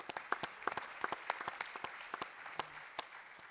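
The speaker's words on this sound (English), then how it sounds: "ladies and gentlemen, please give a round of applause to Kim" An audience applauding for Kim Samuel at a sports and tolerance forum, a brief burst of many hands clapping at moderate distance, fading toward the end.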